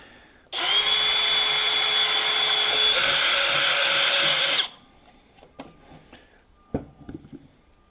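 A power drill whines loudly and steadily for about four seconds while drilling a DIY battery box, its pitch shifting partway through as it hits an edge, then stops, followed by a few light knocks.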